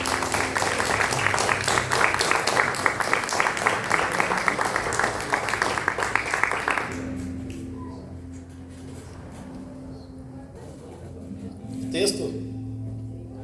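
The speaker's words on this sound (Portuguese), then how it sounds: "E vamos aplaudir o Senhor Deus por essa palavra." A church congregation applauds during a worship service, a dense, lively burst of clapping lasting several seconds before it stops abruptly and gives way to a quieter room with faint sounds.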